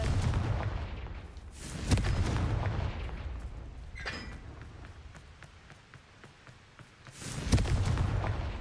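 Fiery Confringo spell blasts in Hogwarts Legacy: loud booming bursts at the start and again near the end, with a brighter crackle in between over a continuous rumbling game background.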